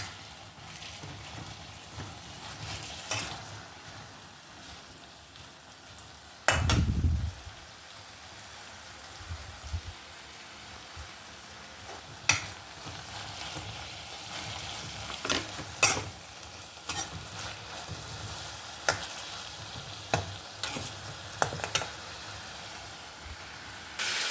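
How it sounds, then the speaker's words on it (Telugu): Coriander leaves, curry leaves and other ingredients fry in a pan while making an Indian gooseberry (amla) chutney, a steady soft sizzle broken by occasional stirring clacks and one louder low thump near the middle. "కొత్తిమీర ఈ మూడు కూడా వేయించుకుందాం"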